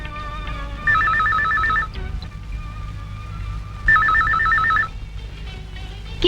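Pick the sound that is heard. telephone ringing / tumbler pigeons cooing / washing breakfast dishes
telephone ringing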